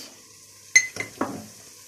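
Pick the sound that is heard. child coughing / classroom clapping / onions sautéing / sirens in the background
onions sautéing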